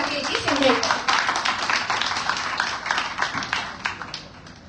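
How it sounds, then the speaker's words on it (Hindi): An audience at a seminar of intellectuals in Indore claps to welcome a university vice-chancellor to the stage, steady dense applause throughout at moderate loudness, with a brief voice heard at the start. "जोरदार तालियों से स्वागत कीजिए राकेश जी सिंघई का"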